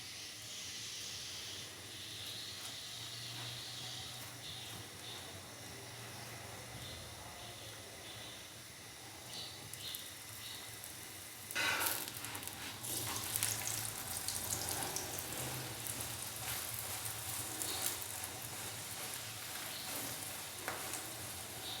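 Soft sizzling of an aloo paratha frying on a griddle with desi ghee, a quiet steady hiss that grows stronger and crackles more about halfway through.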